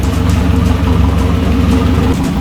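A rebuilt Nissan KA24E four-cylinder engine idles close up in a loud, steady, slightly lumpy rumble with an even rhythmic pulse.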